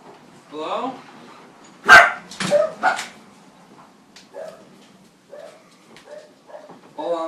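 A dog barks nearby, a cluster of loud sharp barks with a few softer yips and whimpers between quiet gaps.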